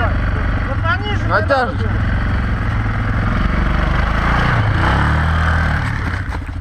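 A quad bike engine drones and revs unevenly at close range, a low throbbing motor running continuously while voices speak over it.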